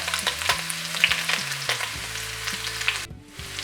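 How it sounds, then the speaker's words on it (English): Onions frying in a pan with browned pork for a Kenyan-style wet fry, a steady close sizzle with occasional scrapes and stirs, loud and without talk, cutting off briefly near the end. "I'm just gonna add my onions so that they can cook together."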